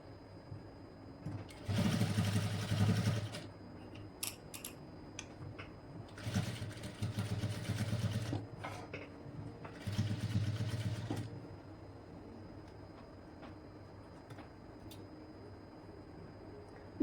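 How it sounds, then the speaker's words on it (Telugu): Pieces of a boat neck blouse are stitched together on a sewing machine, which runs in three whirring bursts of a few seconds each, separated by short pauses and light handling clicks, close and fairly quiet. "ఇవి రెండు కలిపి స్టిచ్ వేసేసుకోండి"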